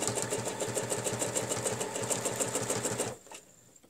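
Sewing machine stitching fabric along a ruler to form a hexagon, a steady fast rhythmic chatter up close that stops abruptly near the end, leaving a quiet tail.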